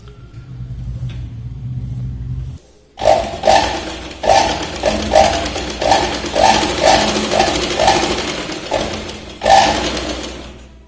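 Electric sewing machine stitching a blouse lining: a low hum, then a run of rapid stitching bursts in short repeated pulses, close and loud, with brief pauses between runs.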